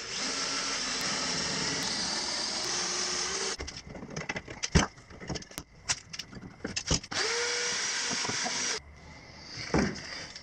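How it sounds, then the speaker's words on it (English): A power drill with an 18 mm bit whirs steadily, then grinds with uneven bursts and knocks as it bores downward into wood, ending in another steady spin and a final short burst. "attach my drill on top of here and make sure we have the 18 mil bit in"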